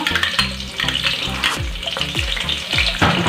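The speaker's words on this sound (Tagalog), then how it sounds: "Okay, mainit na siya. Pwede na natin ilagay yung bawang." Garlic sizzling in hot cooking oil, a loud, close frying crackle with repeated clanks and scrapes of utensils against the pan.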